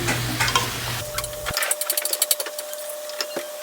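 A spoon stirring sliced young jackfruit into a simmering coconut milk stew, with a scraping, wet stir and faint bubbling heard close up over a low hum, no voices.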